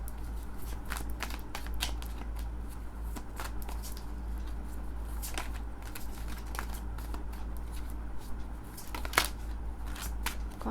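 Tarot cards shuffled by hand in a steady run of quick riffling flicks and soft slaps, close and continuous over a low constant hum, with no speech.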